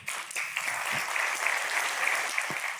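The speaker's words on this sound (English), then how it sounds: "Spontaneous applause from the participants of the Metro Leadership Summit" Participants at the METRO Leadership Summit break into spontaneous applause, a short, dense burst of many hands clapping steadily throughout.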